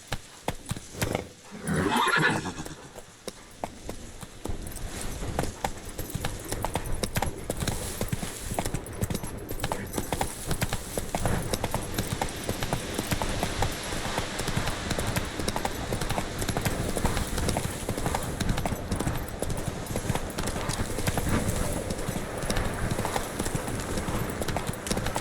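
A horse gallops steadily in The Witcher 3, its hoofbeats clip-clopping in a dense, continuous rhythm with a whinny near the start, loud and close under game ambience.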